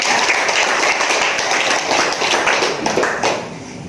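A crowd applauds steadily at a parish Bible-month gathering, dense clapping that stays loud throughout and eases slightly near the end.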